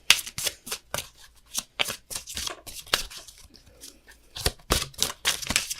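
Tarot cards are shuffled and drawn close up, with crisp riffling bursts and snapping flicks repeating unevenly throughout, no talking over them.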